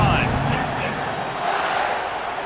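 A football stadium crowd roars steadily before a kickoff at a college game, a dense, continuous wash of cheering voices that holds at a loud, even level throughout.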